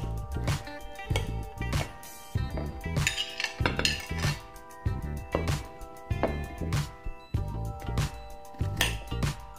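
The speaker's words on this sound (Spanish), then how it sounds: "aquí estamos partiendo nuestra fruta" Fruit being chopped in a kitchen for a punch, with a steady run of sharp knife strikes against a board mixed with clinking dishes and utensils, close and fairly loud with no talking.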